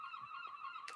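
Geese honking outdoors, a steady run of nasal calls layered over one another with a sharper burst near the end, moderately close and with no voices.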